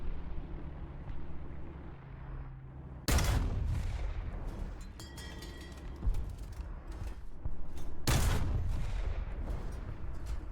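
Two loud tank cannon shots from an EBR 1954 in War Thunder, each a sharp close blast followed by a rumbling decay, spaced about five seconds apart over a low engine hum.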